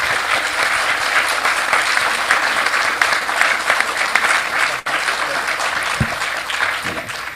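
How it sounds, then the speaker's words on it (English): An audience at an online conference session gives a long, sustained round of applause, dense and steady, with a few brief thumps near the end. "So let's give them a round of applause"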